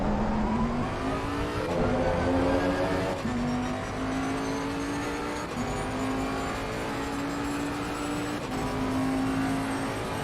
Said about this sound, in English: The Bentley sounds so nasty